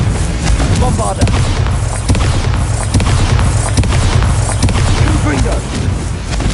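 Bombarda spell explosions in Hogwarts Legacy: loud, continuous booming blasts and rumbling impacts, with repeated bursts crowding together over several seconds of dense battle noise.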